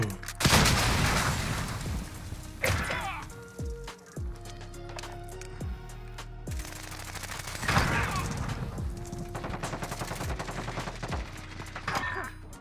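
Rapid video-game gunfire in a multiplayer shooter, bursts of automatic shots and single cracks coming in clusters with short pauses, loud and close, with brief bits of voice chat in between.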